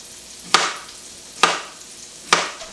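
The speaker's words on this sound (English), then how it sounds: "I'm gonna fry up some garlic here" Garlic frying in a pan: three evenly spaced bursts of sizzle or stirring scrapes stand out over a quiet background hiss, close and clear.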